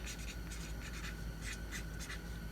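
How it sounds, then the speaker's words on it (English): A pen writes an email address down on paper in quick, faint scratchy strokes, several short bursts in a row against a steady low hum. "I am going to write that down for you"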